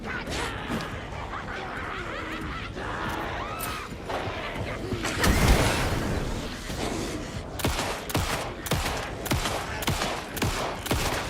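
Sustained gunfire in Alan Wake 2 at a lake house, a dense barrage of repeated shots with a heavy burst midway and sharp separate cracks toward the end, loud throughout with faint voices mixed in.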